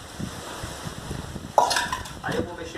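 Wet mortar mix being stirred with a wooden stick, a scraping, sloshing scuff that starts abruptly partway through and continues in uneven strokes close by, with faint clinks behind it.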